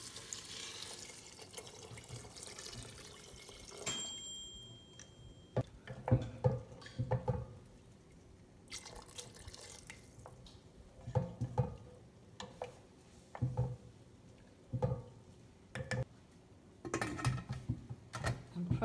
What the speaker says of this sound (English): we're going to add in our water